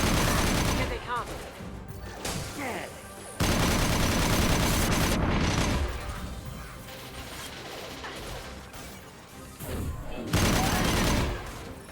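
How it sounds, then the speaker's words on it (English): Shotgun fire in Mass Effect Legendary Edition 2 during combat comes as loud, heavy blasts in several bursts, with crashing impacts and game voices mixed in. "Shotgun kill."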